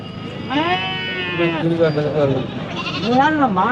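Several sheep and black goats bleat loudly and repeatedly at the Konganapuram goat market in Salem, Tamil Nadu, with wavering cries overlapping one another against a busy background.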